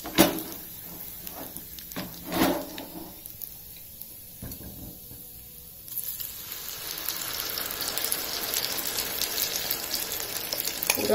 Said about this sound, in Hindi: और इसमें हम डालेंगे हम करी पत्ता और इसको अच्छे से मिक्स करेंगे और तुरंत ही अभी हम इसमें ये बैटर डाल देंगे